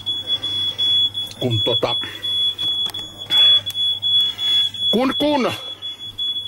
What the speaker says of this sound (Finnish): Noi kuuluu asiaan nää tällaiset piippailut.